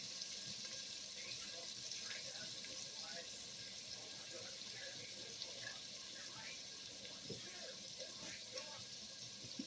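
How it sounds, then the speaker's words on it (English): Water runs steadily from a tap into a cooking pot, a continuous faint hiss with small splashes, quiet and close, with no talking. "I'm gonna add water to this."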